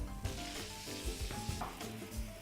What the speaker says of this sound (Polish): Cebulę i czosnek doprowadzamy do zezłocenia. Podlejemy czerwonym winem.